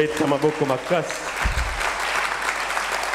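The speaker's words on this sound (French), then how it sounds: "Est-ce qu'on peut acclamer très fort?" A church congregation breaking into loud applause and cheering during a sermon, a dense clapping roar that follows a brief voice and carries on steadily to the end.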